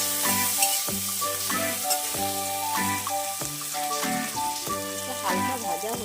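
Green chillies fry in hot oil for a bottle gourd and prawn dish, a close, bright sizzle broken by regular scraping stirs of a spatula across the pan, roughly one stroke per second, with no speech.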